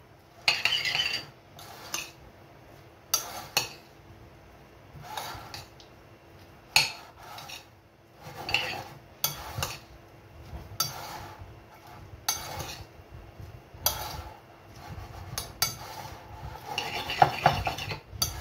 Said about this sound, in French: Et là, on va bien mélanger.